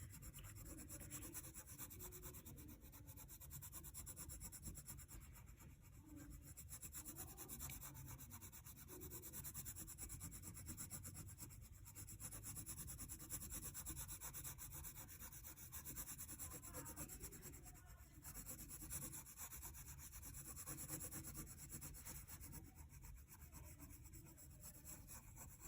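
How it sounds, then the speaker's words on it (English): A soft 5B graphite pencil shades across paper in a steady, close scratchy rubbing that continues unbroken for nearly half a minute, with faint back-and-forth stroke rhythm and no speech. "we're gonna use a 5B pencil to start shading"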